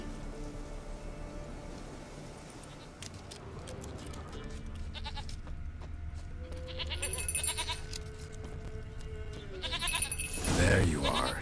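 A goat bleats in The Witcher 3 game over a soft patter of rain, the bleats short and fairly close, with a voice speaking briefly and a louder sound burst near the end.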